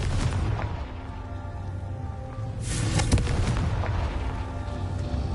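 A Confringo blasting spell explosion in a Harry Potter video game, a deep rumbling boom that bursts out midway over a low, steady game background, then rolls on without speech.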